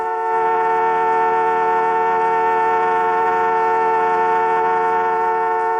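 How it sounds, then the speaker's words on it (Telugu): A car horn sounds as one sustained, steady, loud blare lasting the whole stretch, with no talking over it. "హార్న్ కొడుతుంటే వినిపించట్లా?"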